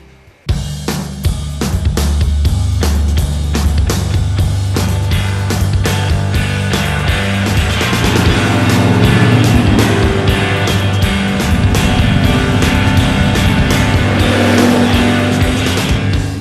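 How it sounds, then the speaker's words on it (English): Green Holden VS ute with a big stroker V8 and large turbo, loud and close, engine roaring and revving hard with sharp repeated throttle blips over a constant low rumble, no talk. "a green VS ute, big stroker motor, big turbo"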